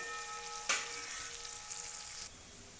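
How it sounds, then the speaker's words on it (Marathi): Onion frying in oil, a low, even sizzle with one sharp splatter or clatter near the start and no one talking. "हे तेल हा कांदा चांगला सरळ भाजून घेऊया"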